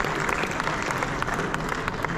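Audience applause at a Sir Syed Day 2022 event in Lucknow, a dense, steady patter of many hands clapping throughout, fairly loud, with a voice faintly under it.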